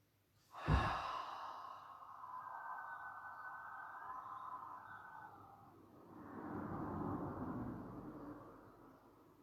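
A person breathes during a yoga exercise, drawing one long, slow, audible breath close by, followed by a soft exhale.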